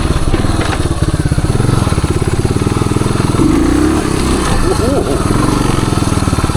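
A 1978 Suzuki DR370 trail motorcycle putters steadily at low revs on a wooded trail close by, its engine note rising and falling slightly, with a voice talking over it.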